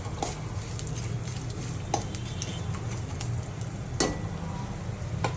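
Urad dal, chana dal, mustard seeds, cumin and fennel frying in oil in a pan, a steady sizzle with occasional spoon scrapes and taps while being stirred, no talk.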